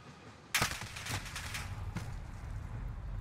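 Gunfire from the video game Modern Warfare: a sharp loud shot opens, followed by a rapid string of further shots and a sustained rumbling, booming bed of noise underneath.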